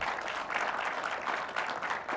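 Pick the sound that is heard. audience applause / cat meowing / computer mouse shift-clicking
audience applause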